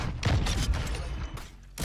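A sniper shot in Modern Warfare 2 gameplay: a couple of close, punchy gun blasts in quick succession with booming low ends, followed by another abrupt burst near the end.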